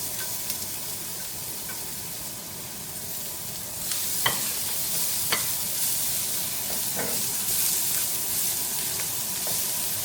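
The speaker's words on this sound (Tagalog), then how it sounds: "Start ng igisa yung bawang tsaka sibuyas." Garlic and onion sauté in a hot pan at the start of a kaldereta, a constant soft sizzling hiss that swells slightly midway, with a few sharp clicks of a utensil against the pan.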